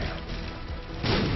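Bomb blast in the game The Binding of Isaac, a burst of broad crashing noise that swells loud near the end over a dense, busy game soundtrack, with no talk.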